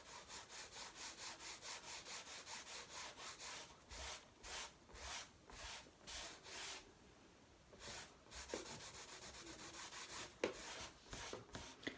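Varnish being rubbed off a damaged painting under firm pressure: close, rhythmic back-and-forth scrubbing strokes, about two per second, with a short pause near the middle before the rubbing resumes steadily.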